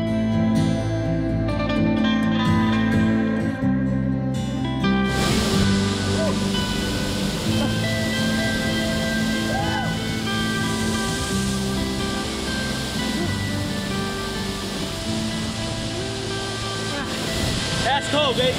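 Steady rushing roar of a waterfall in the Columbia River Gorge, Oregon, broad and continuous, with music fading out during the first few seconds.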